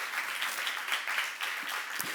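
A church congregation claps during a sermon, a steady wash of applause from many hands that holds evenly at moderate loudness, with no voices on top.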